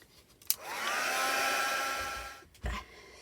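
A hair dryer blows on a paper junk journal page, switching on with a click, whirring steadily for about two seconds, then clicking off with a brief restart at the end.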